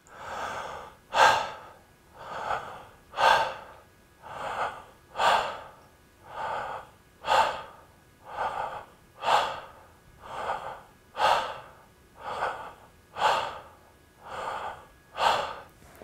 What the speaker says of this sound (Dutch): Dus je blijft die Verbonden ademhaling in en uit zonder pauzes blijf je doordoen